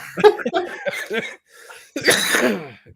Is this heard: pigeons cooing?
no